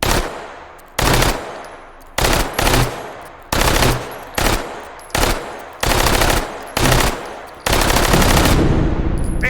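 Bursts of automatic gunfire from weapons in the VR shooter game H3VR, about eight sharp, loud, close volleys of rapid shots separated by short pauses, with one longer sustained burst at the end.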